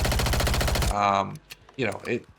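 A rapid burst of automatic fire from a high-mobility weapon with a 50-round drum rattles loudly in a Warzone firing range, about a second of steady shots, followed by short distant reports.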